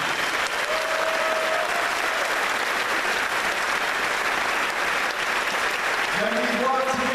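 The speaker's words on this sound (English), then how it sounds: "Let's give another round of applause to our elected officials that join us in this." Audience at a faith community action assembly applauds elected officials with steady, dense clapping throughout, loud and close, while a voice talks over it near the end.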